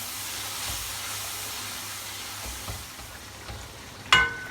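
Soft, steady sizzling of a spice paste with salt frying in a pan for kadhi pakora, a low crackle throughout, ending with a sharp metallic clink of a utensil.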